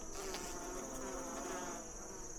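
Honeybees in a hive, feeding on the last piece of a peppermint candy placed inside for mite control, buzz and hum in a steady, dense drone that holds close and unbroken throughout, with no voices.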